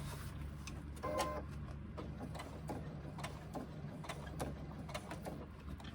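A sewing machine stitches binding on a pouch, a quiet mechanical whir with clicking needle strokes in short bursts and brief pauses, heard close with no talking.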